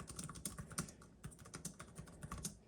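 Rapid typing on the low-profile laptop keyboard of a ThinkPad Z13 OLED, a close, continuous patter of soft key clicks with uneven rhythm and no talking.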